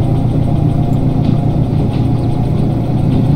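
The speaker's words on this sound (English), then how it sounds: "I am gonna just keep this engine running." A locomotive's diesel engine idles loudly in the Derail Valley train simulator, a deep, continuous rumble with a steady low throb and no talking.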